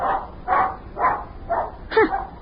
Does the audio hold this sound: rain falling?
no